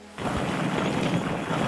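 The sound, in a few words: waterfall in the video game Jurassic World Evolution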